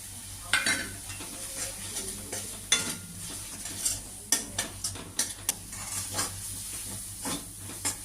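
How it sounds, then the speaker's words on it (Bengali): Poppy seeds and spices frying in a pan for mustard-poppy prawns, a constant sizzle broken by repeated sharp spatula scrapes and stirs in an uneven rhythm, close and without speech. "মশলা মোটামুটি ভাজা হয়ে এসেছে এবার আমি পোস্তটা দিয়ে আর একটু ভেজে নেবো"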